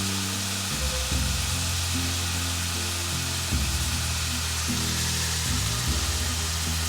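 Spaghetti ragu sauce cooks in a pan with a steady, even sizzle and bubbling hiss, joined by a low hum in the background, with no talking.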